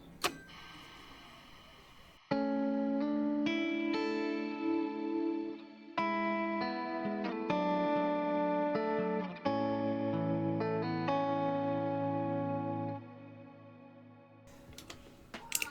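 Electric guitar through a Boss RV500 medium bloom reverb preset for worship playing: clean chords and picked notes ring out in phrases, each swelling into a lush, lingering reverb tail, with a quiet gap before the last notes.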